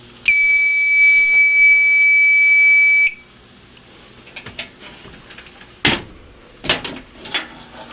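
A Unimode 5UD fire alarm control panel sounds a loud, steady electronic evacuation tone for about three seconds, then cuts off, leaving scattered clicks and handling knocks.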